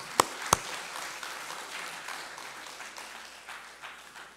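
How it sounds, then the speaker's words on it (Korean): A church congregation at an Easter Sunday service breaks into applause, opening with two loud, sharp claps close by, then a softer, thinning patter of many hands that slowly fades. "힘차게 박수를 한번 영광 드리겠습니다"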